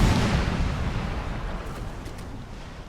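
Cannon artillery broadside in the Napoleon Total War naval battle game, a heavy booming blast at the start that rolls and decays over a few seconds with low rumble, no talk.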